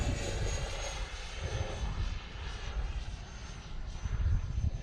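A Thunderbird model airplane's engine during takeoff, a steady buzzing drone that swells and fades slightly as it climbs, heard at middle distance outdoors with wind rumble and no talk.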